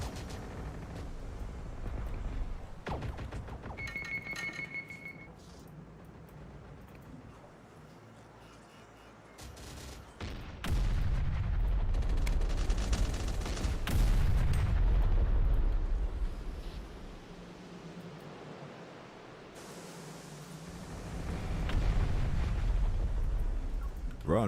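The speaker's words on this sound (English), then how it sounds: "Just keep harassing them with airstrikes until we get out." Airstrike explosions in Terminator Dark Fate Defiance, deep rumbling blasts swelling in several heavy waves with scattered distant impacts between them, loud and low.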